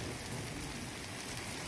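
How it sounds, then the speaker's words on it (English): Hail falling during a mountain thunderstorm, a dense, continuous patter of ice striking surfaces up close, steady and loud throughout. "Now it's hailing. There are chunks of ice falling from the sky."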